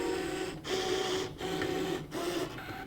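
A ScanNCut machine cuts a quilted fabric stocking with a steady, printer-like mechanical whir, broken by brief pauses as the carriage shifts, close and alone without talk.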